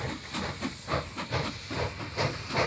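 Steam train in the transport tycoon video game Mashinky, a steady rhythmic hissing chuff repeating at an even pace, moderately loud and alone.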